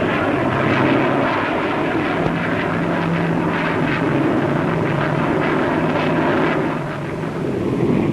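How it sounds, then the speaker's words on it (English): An SB-5 swept-wing research aircraft flying at an air show gives a loud, steady engine roar with a droning hum, blown by wind noise throughout. "the SB-5, a product of the same firm, is designed to test performance with the wings swept at varying angles."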